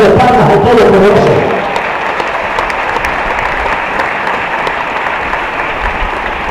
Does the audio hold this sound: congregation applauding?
yes